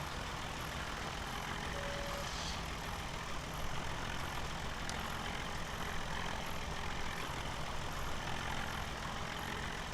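A small Russian tractor engine idles and drones steadily in Farming Simulator 17, a continuous low rumble with faint beeps and no speech.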